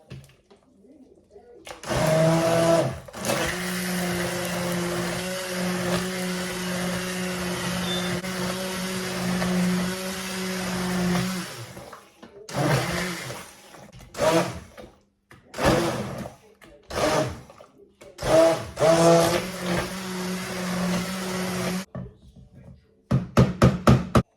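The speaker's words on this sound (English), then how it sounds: "I'm just going to blitz the soup" A blender blitzes a pot of ginger soup off the heat, a loud steady whir that runs continuously for about ten seconds, then cuts in and out in several short pulses before stopping.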